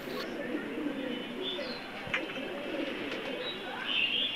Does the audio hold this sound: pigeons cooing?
yes